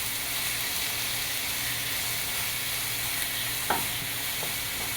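Chopped aromatics sautéing in coconut oil, a soft, even sizzle close by with a faint clink of a spoon or ladle near the end, steady and fairly quiet.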